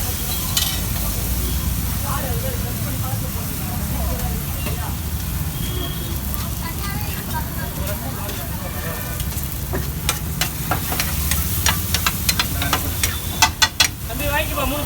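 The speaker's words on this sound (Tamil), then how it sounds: "நான் போடுறேன் லைட்டாக பூண்டு பச்சை போட்டு" Garlic and green chilli sizzle loudly on a street-food griddle at a Chennai dosa stall, a steady broadband fry under busy stall noise and voices, with a cluster of sharp metallic scraping clicks near the end.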